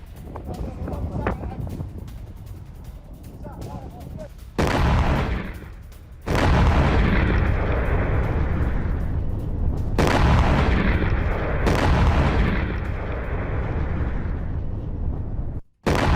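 Heavy, deep blasts from explosions in a Gulf country's industrial zone boom one after another over a constant low rumble, with a news presenter talking through the noise.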